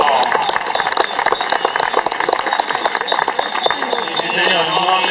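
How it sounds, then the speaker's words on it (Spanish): Applause from a crowd at a horse show in O Pino, A Coruña, honouring a rider after his run, steady dense clapping lasting throughout, with a voice speaking over it. "Un fuerte aplauso para Berto."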